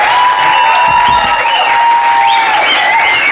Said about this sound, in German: Mal einen kleinen Applaus für Theresa.